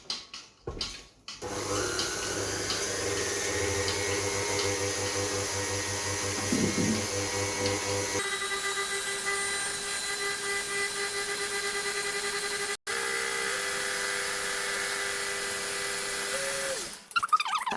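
A kitchen food processor mixes butter and sugar, a steady electric motor whine with a pitch that shifts partway through, running continuously and stopping briefly before the end.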